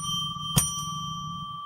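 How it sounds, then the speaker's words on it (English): A small bell rung during a live psychic radio broadcast: one clear strike rises sharply and leaves a bright, sustained ringing tone that lingers steadily and evenly over a quiet background, with no voices. "So let's ring a bell 3 times to declare sacred space."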